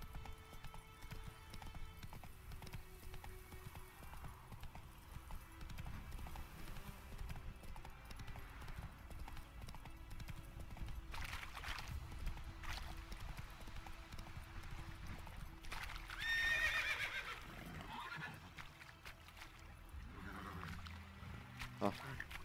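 Horse hooves clop steadily along in The Witcher 3, with a brief whinny near the end, heard faintly and continuously against soft game ambience.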